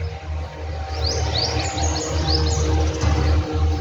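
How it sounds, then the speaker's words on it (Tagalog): Small bird chirping near its nest in summer heat, quick high tweets and twittering calls repeating close by over a steady low hum of background noise. "May bird dito eh. May nest dito."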